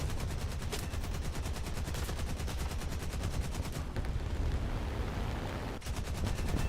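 Hawker Typhoon cannon fire in the combat flight game War Thunder: rapid, sustained bursts of heavy automatic rounds in a fast even rhythm, loud and close, broken by a brief pause before resuming.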